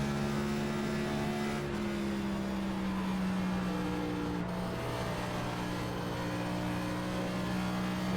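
A NASCAR NextGen race car laps Pocono in a sim racing game, its engine a steady high-pitched drone with shifting pitch as it holds throttle, heard alone at low level.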